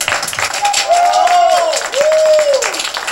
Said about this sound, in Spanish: Por favor, un aplauso para ustedes mismos.